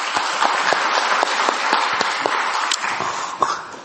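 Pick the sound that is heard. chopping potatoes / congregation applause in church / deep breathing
congregation applause in church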